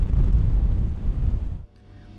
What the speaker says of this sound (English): the gust is coming